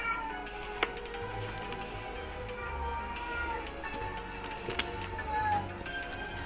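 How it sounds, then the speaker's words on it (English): A house cat meows in the background while a Genshin Impact game plays, several drawn-out, fairly faint cries mixed in with game music and soft electronic tones. "my cat's meowing in the background"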